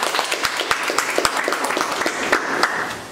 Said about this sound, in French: je voudrais qu'on applaudisse à tous les candidats